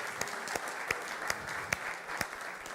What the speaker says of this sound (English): Big round of applause for our jazz.